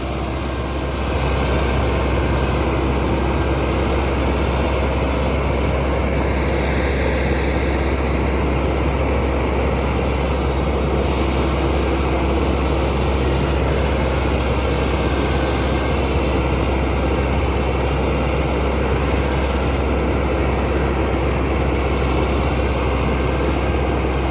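New Massey Ferguson MF 385 tractor engine running during a test, a steady, loud, close diesel drone with a deep low rumble that holds unchanged throughout, with no talking.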